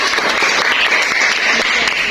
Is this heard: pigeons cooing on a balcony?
no